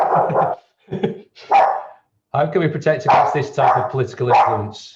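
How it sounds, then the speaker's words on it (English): A household dog barks in short bursts at home, mixed in with and overlapping steady conversational talk from people nearby. "that's my dog."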